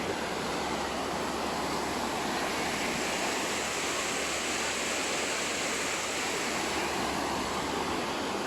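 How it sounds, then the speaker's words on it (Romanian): A clean, clear waterfall at a river resort in the Philippines roars steadily, a dense, unbroken rush of falling water heard up close with no voices. "Cea mai curată și cea mai limpede cascadă"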